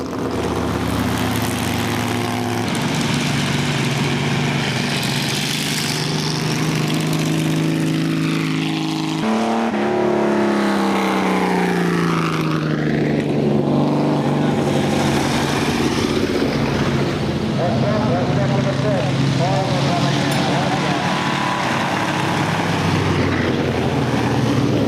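Vintage race cars, including midget and stock cars, circle a fairground track, their loud engines swelling and fading as they pass close by in sweeping pitch changes, with no talking.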